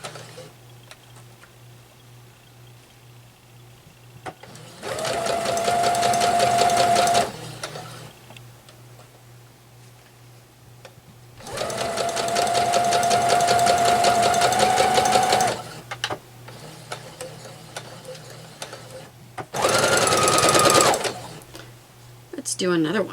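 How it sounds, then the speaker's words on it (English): A sewing machine stitching a quilt block runs in three bursts of rapid mechanical whirring, separated by quiet pauses with soft handling sounds, each run including back stitching; nearby talk is faint. "And I am going to back stitch."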